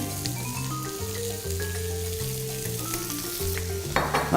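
Food sizzling in hot oil on a home cooking show, a continuous soft crackle running beneath louder background music, with a brief clatter near the end.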